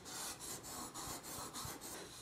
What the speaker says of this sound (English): Now simply do much quicker sharpening on other stones.